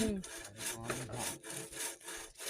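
A hand saw cuts through wood while a concrete column base is formed, with steady back-and-forth rasping strokes close by, about four or five strokes in a few seconds, and no talk.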